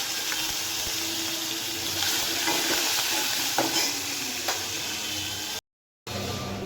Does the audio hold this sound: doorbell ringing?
no